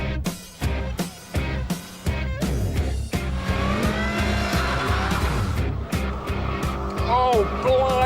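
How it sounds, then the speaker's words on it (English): A car spinning its wheels off the line in a standing start race, engine roaring and tyres squealing loudly before the revs climb through gears, with a voice talking over it. "A bit too much wheel spin."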